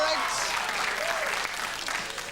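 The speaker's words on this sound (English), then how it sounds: "The applause has died down" Studio audience applause on a 1990 Yorkshire TV game show, a dense, steady wash of clapping that stays loud for the whole stretch, with a few voices mixed into the crowd noise.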